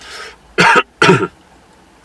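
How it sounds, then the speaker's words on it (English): Two sharp, loud coughs close by, following a breathy exhale, with a brief quiet pause after. "sorry I keep coughing"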